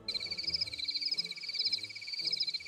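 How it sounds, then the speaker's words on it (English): Crickets chirp in a continuous rapid pulsing trill, steady and fairly close, with a faint low rumble underneath. "Track 2 are crickets."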